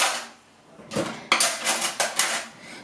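Pancake batter being mixed in a bowl, a utensil clinking and scraping against the dish in several quick, sharp bursts separated by short pauses.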